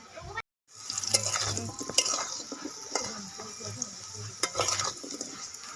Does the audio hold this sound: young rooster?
no